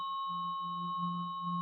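Sound healing tone for chakra energy clearing: several pure, steady sine-like tones sound together, a low hum with higher clear pitches sustained evenly throughout, quiet and alone without speech.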